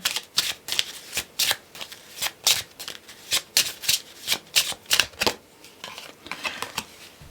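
A deck of oracle cards is shuffled by hand in a rapid series of crisp, close riffling bursts, about a dozen in steady rhythm before slowing and fading, with no talking.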